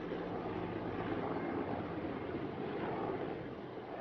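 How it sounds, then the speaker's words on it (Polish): Military helicopters fly over a house, heard as a steady, dense engine and rotor drone that holds throughout and eases slightly at the end, with no voices. "Nad domem przelatują wojskowe śmigłowce."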